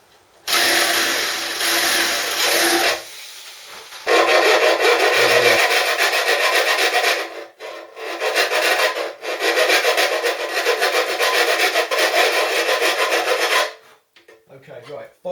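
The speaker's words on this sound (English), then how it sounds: "filing that into an oval has a reason" Hand file working bare metal on a motorcycle part into an oval shape in a home garage, loud close rasping strokes in long sustained runs with short pauses between them, no talking.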